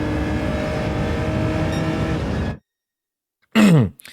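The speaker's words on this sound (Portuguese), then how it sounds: "Passei uma marcha pra cima, vou acelerar." A Gran Turismo 7 race car engine drones loud and steady at high revs, then cuts to silence before a brief, falling engine burst near the end.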